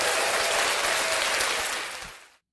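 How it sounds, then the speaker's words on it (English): A crowd claps in dense, sustained applause that stays full and even before tapering off and cutting out abruptly near the end. "Round of applause for yourselves,"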